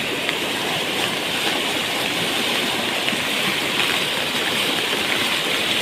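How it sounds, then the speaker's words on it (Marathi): Heavy monsoon floodwater in a Konkan river in Sindhudurg rushes past in a loud, dense, unbroken roar, steady and close for the whole stretch. "किती जोरदार आहे बघा पूर"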